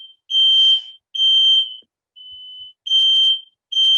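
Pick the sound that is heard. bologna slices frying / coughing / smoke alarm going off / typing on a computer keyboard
smoke alarm going off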